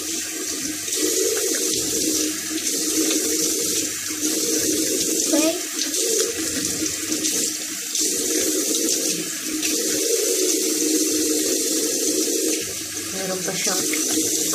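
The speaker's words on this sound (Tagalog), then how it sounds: "I wash it with water." Tap water runs steadily into a bathroom sink as a face is washed during a night routine, a continuous close splashing stream with slight surges and no talk over it.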